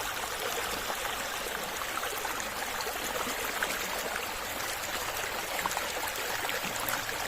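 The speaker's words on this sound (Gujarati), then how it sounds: "પાણીનો અવાજ કેટલો સરસ જાવ" A swollen stream of floodwater after heavy rain pours and churns in a constant, fairly close rushing wash that holds steady throughout without talk.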